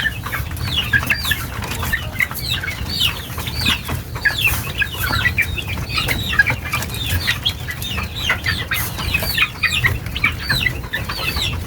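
A flock of moulting chicks chirps and clucks continuously nearby, high peeps overlapping in a busy chorus over a low rumble of background noise, with occasional wing flutters.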